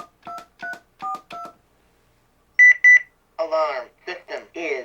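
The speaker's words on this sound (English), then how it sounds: "you pick up the phone and you press star" Telephone keypad tones sound on a CareTaker Plus home automation alarm from 1992 as star and other keys are pressed. First come four short dual-tone beeps, then a pause, two brighter beeps, and a spoken system voice response.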